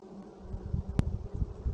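Honeybees buzz near and continuously while being shaken off nuc frames into a brood box, a steady mid-pitched hum with one brief sharp tap partway through.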